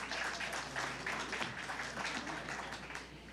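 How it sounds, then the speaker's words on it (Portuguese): Faint, distant applause from an audience at a broadcast engineering panel event, a soft continuous patter of many hands clapping for a speaker, heard over a low room hum. "Salva de palmas para o Eliésio, por favor."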